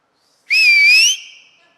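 A loud, piercing human whistle with a rising, wavering pitch holds for about half a second, then fades into a faint trailing tone.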